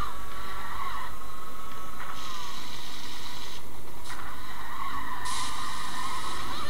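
Karts drifting in Mario Kart Tour on Android, with a steady high tire squeal and skid running throughout over constant engine and game audio, loud and close.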